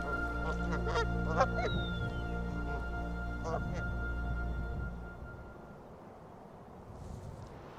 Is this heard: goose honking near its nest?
yes